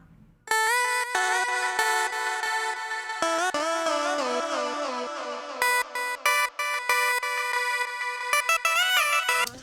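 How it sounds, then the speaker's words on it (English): Bright melody from a granular sampler instrument with a grainy, shimmering sampled texture, notes gliding and stepping continuously, loud and up front. "let's go to the main melody, which I dumped into form, which is a really cool sampler type instrument"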